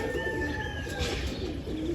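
A female pigeon coos softly amid bird sounds near a net, low and faint against a steady outdoor background, with no talk.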